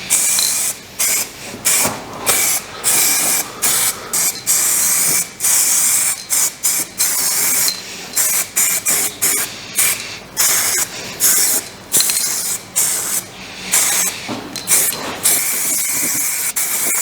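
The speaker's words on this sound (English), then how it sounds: "I will apply a coat of primer on top" Spray gun applying primer to the body of a Mazda MX5 NB: loud, close bursts of hissing spray, some long and some short, broken by brief pauses throughout.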